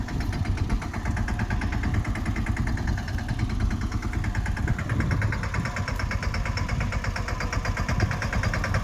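A tractor engine runs steadily in a field while groundnut is being sown, a loud, even mid-pitched chugging that holds constant throughout, close and with no talk.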